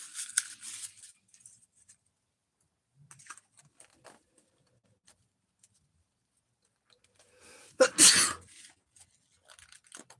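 A single sharp sneeze bursts out near the end of a mostly quiet stretch, preceded by scattered faint clicks and rustles.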